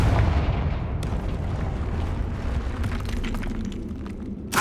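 Confringo fire spell blasting in the Hogwarts Legacy video game, a heavy booming explosion at the start that rumbles and decays, followed by crackling debris and a second sharp burst at the end.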